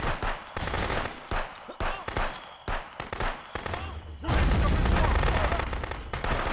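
AK-47 rifle fire in the video game Contraband Police, rapid bursts of loud automatic shots that break into a sustained dense volley near the end, with speech mixed in.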